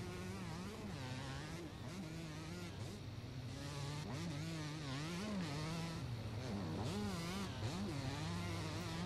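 A motorcycle engine in the video game MX vs ATV Legends buzzes steadily throughout. Its pitch keeps rising and falling as the throttle is worked, with no talk over it.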